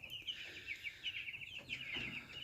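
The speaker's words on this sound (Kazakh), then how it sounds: "Мінекей бройлердің балапандары" Cobb 500 broiler chicks in a brooder, with a few turkey poults among them, cheep in a continuous high, busy chorus, faint and close, with no talk.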